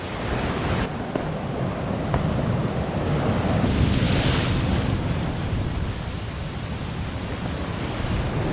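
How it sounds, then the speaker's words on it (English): Ocean swell breaks along a remote coast as a continuous roar of waves and surf, mixed with gusty wind buffeting the microphone, loud and close with a slight swell in intensity midway. "I just can't get anywhere with this swell"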